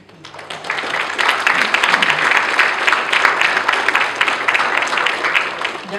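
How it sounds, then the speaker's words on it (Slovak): Audience at a Slovak surveying conference bursts into loud, sustained applause, a dense wash of clapping that swells in quickly and holds steady for several seconds. "Preto im spoločne aspoň hlasne zatleskajme."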